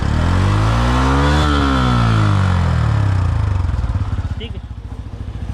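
A Bajaj Pulsar N160 motorcycle on Apollo Tramplr XR 140/70-17 tyres, its engine revved hard up and down close by, then settling into a pulsing idle, with a brief spoken remark near the end.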